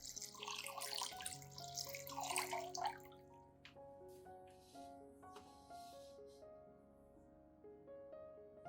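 Clean water poured into a turmeric solution to dilute it for soaking an aloe vera plant, a close splashing rush for the first few seconds that then fades, leaving quiet tonal ringing.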